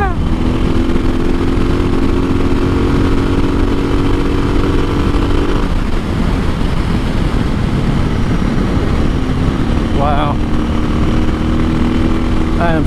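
Modified motorcycle engine accelerating in fifth gear on a performance ride, loud and close with a steady droning roar, a brief dip in pitch midway, then rising again, heavy wind rush throughout.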